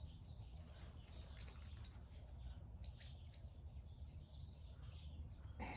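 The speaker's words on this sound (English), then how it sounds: "They got a party going on over there, the birds." Outdoor birds chirp in short, scattered high tweets, fairly faint and somewhat distant, over a low steady background rumble with no talking.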